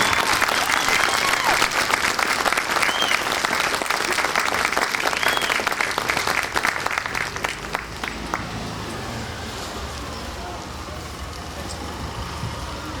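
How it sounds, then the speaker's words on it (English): Loud applause from a large outdoor Veterans Day parade crowd, for the American Legion Riders, carries on for several seconds, then fades into a steady background rumble of traffic or engines. "Please, a round of applause for the assistance of the American Legion Riders."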